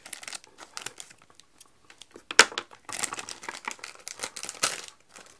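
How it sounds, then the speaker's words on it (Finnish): A plastic bag being pulled open up close, giving a series of sharp crinkling and crackling bursts with short pauses, one loud tearing snap in the middle, and no talk. "Nyt mä avaan tän pussin."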